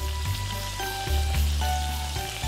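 Horsetail-weed fritters in batter made of vegetables, frying mix and water, dropped into hot oil, sizzle with a steady, close crackle under soft background music.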